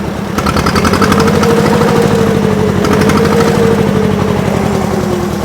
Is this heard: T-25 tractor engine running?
yes